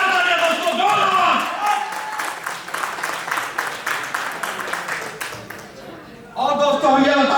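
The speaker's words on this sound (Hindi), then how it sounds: "जोरदार तालियां दोस्तों, जोरदार।" Audience at a real estate project launch clapping in a steady wash of applause, loud and close, with a voice speaking over it near the start and again at the end.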